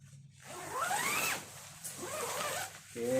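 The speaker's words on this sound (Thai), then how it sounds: "ขออนุญาตลูกซิปดู นี่นะ ซิปเป็นซิปเรืองแสงด้วยนะหัวเขียวๆเนี่ย" A zipper on a Naturehike Village 13 tent is pulled in several quick, rasping strokes close up, the last one short and sharp, with no talking.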